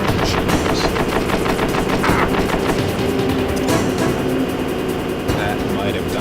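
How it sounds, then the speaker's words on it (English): Rapid machine gun bursts ring out in the Metal Gear Solid video game, a dense, loud rattle of repeated shots that continues almost without a pause while a player talks over the top. "The guys firing machine guns."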